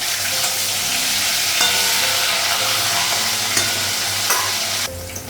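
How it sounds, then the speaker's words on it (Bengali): Fish fries in a pan with a loud, continuous sizzle, along with the scrape of stirring. The sound drops a little near the end. "তো মাছটা এক সাইডে ভাজা হয়ে গেছে"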